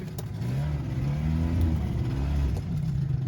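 A 1973 Evinrude 25 hp outboard motor on a raft on the Housatonic River, revving up and holding a steady, loud, close droning roar for several seconds, with no voices.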